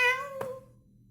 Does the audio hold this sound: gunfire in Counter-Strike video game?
no